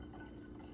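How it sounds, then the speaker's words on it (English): Water poured into a jar of sweetened tea mixture for homemade kombucha, a soft, even stream of liquid filling at low level with no one speaking. "Now we're gonna add 8 cups of water to the tea mixture."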